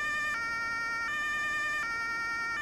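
A fire engine's emergency siren switches on and wails loudly in a steady repeating two-tone pattern, with no talking over it.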